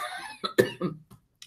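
A few harsh coughs in quick succession, close and fairly loud, followed by a couple of softer throat-clearing sounds trailing off.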